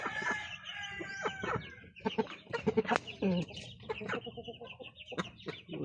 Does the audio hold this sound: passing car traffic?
no